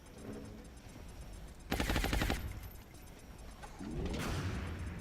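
A sniper in the strategy game XCOM Long War looses a rapid rattling burst of gunfire, loud and close, followed by a second rising blast over steady background ambience.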